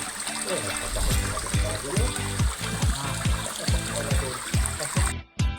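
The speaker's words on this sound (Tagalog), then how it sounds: "Itong bagsakan ng tubig." Water pours over a small waterfall where people hunt eels, giving a constant close rushing splash with rhythmic heavier splatters on top.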